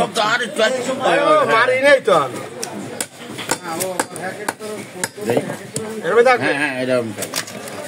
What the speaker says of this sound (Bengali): একটা 4 কেজি ওজনের রুই কাটিং করছেন